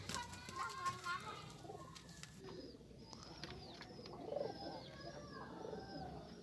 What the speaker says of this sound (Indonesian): ini dia semeton penampakan dari merpati belorok kepala merah